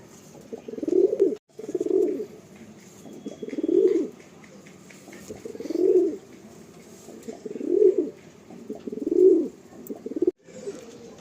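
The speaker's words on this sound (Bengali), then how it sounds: "আমার বাড়িতে সবই আন্ধ্রা পায়রা।" Andhra pigeons coo in a quiet loft, about six deep, rounded coos spaced roughly every one to two seconds, close and clear with no talking.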